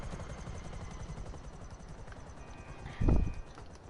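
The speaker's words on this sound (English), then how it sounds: "The Buzzard Attack Chopper, this helicopter's free." A Buzzard Attack Chopper helicopter in GTA gives a steady, rapid rotor chop with a droning engine underneath, and a brief louder thump rises near the end. No one speaks.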